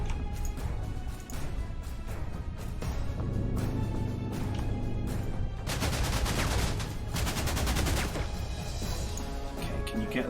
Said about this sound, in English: Let's just give it a carpet bombing and move on.